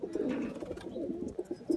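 A purebred Sialkoti pigeon coos close by, soft throaty low calls repeating in a loose rhythm, quiet and alone.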